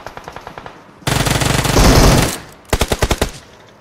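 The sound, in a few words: gunfire in a battle royale video game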